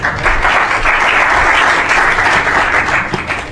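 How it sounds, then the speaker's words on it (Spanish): A crowd at a financial innovation event applauds a speaker named Juan as he heads to the stage, a dense, steady wash of clapping that stays loud and even for several seconds with no voices over it. "Un aplauso para Juan."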